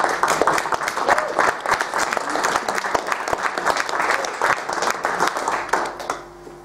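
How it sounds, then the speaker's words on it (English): An audience applauds for Madiba, Nelson Mandela, at a talk, with sustained clapping from a large crowd and a few voices, fading out near the end. "He deserves, the great man, that applause, and thank you for offering it"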